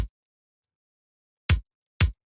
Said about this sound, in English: This is just a Vengeance like breakbeat kick, and that sounds like this.